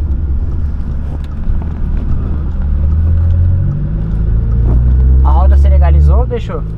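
A cold Audi A3 with 280 hp and a dry DSG gearbox idles and revs in a deep, steady rumble, heard close up with wind noise while people talk over it.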